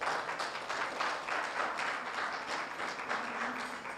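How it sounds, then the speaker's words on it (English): Church congregation clapping their hands for the Lord during a sermon, a moderately soft, sustained crowd clapping with some rhythmic pulse throughout, no speech over it. "Clap your hands for the Lord,"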